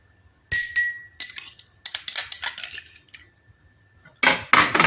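Basil seeds poured into a glass with chopped watermelon and melon for an iced fruit drink make bright clinks and taps, a series of close glassy chinks and spoon knocks separated by short silences.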